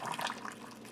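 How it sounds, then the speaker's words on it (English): Soft, steady trickle of hot water being poured from a kettle, a faint gurgling stream with no voices. "Hot water from the kettle."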